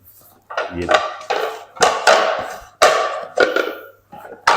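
Sturdy steel dinner plates from a cookware set are handled and knocked together in a series of sharp metallic clanks and clatters, close and fairly loud, with brief gaps between each knock.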